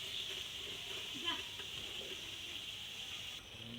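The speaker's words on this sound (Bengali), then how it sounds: "তো একটুখানি বাটি চচ্চড়িতে জল দিয়ে দিল" Water pours into a bowl-cooked vegetable dish (bati chorchori), a soft continuous gush and trickle under a steady background hiss.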